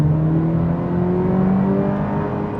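A 2026 Cadillac CT4 Premium Luxury's engine revs in manual shift mode, a loud, close, steady drone whose pitch climbs gradually across the short stretch.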